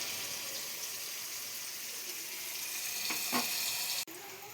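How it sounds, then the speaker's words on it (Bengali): Vegetables frying in a pan for a pasta dish, a steady broadband sizzle running throughout, with a couple of brief clatters near the end as the food is stirred. "তো আমাদের সবজিটা ভাজা ভাজা হয়ে এসেছে"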